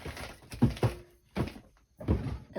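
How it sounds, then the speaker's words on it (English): A drawer is pulled open and rummaged through at a craft table, giving a few close wooden thunks and sliding knocks in uneven bursts, with no talk over them. "So what I can do is go in my drawer right here."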